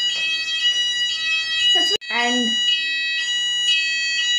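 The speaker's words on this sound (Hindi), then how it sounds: "फायर अलार्म जो ये बज रहा है, जो आपको सुनाई दे रहा है" An apartment building fire alarm rings continuously with steady high-pitched repeating tones throughout, loud and close, while someone speaks briefly over it.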